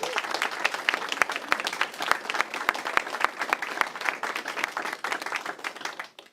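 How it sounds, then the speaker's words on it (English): An audience at a school event at Aylesbury Public School applauds the students, a dense steady patter of many hands clapping, moderately distant, lasting several seconds and tapering at the end. "I'd like to give an applause to all the students."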